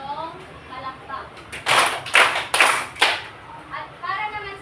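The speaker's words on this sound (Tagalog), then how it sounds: "Bigyan nga natin si Kylie ng 3 palakpak." A classroom of students gives three claps together, loud broadband bursts in a steady rhythm in the middle of the clip, with a voice and room chatter before and after.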